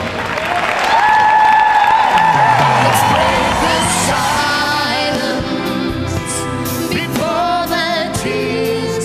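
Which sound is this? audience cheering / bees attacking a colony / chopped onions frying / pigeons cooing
audience cheering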